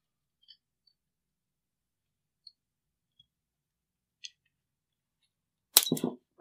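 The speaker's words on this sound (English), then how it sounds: "So we're going to rotate the cam pin." A Sig MPX-K pistol's cam pin is rotated: a few faint, sparse clicks over near-silence, then a brief, louder metallic rattle and scrape near the end, with no talking.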